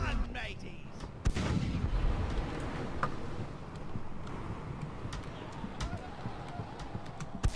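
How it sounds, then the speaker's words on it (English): Booming ship cannon shots in the video game Blackwake go off, one loud blast followed by scattered sharper reports and thuds over a rough, windy background. "Keep rapid firing the rear cannons."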